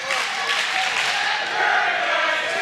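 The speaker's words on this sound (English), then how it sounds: "this crowd, you can hear them saying Dirtbag City" Wrestling crowd at an RWA Dynasty 2023 event, a dense roar of many voices with a steady rhythmic chant rising and falling throughout, loud and close without pauses.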